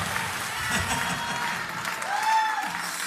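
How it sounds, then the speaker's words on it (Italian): A small crowd claps steadily for a child's dance performance, moderately close, with light chatter mixed in. "un bel applauso"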